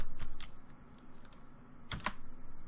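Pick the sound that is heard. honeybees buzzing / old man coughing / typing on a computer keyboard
typing on a computer keyboard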